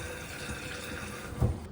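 Water running through a toilet supply valve, a low, steady trickling hiss that stays quiet, with a brief soft knock near the end.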